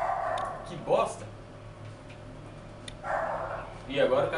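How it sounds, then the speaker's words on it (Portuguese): Dog barking in the video game GTA 5, a few short barks at moderate distance mixed with game noise and someone talking over it. "E agora o cachorro vai ficar latindo."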